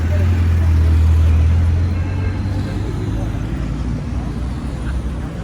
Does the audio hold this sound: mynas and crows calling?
no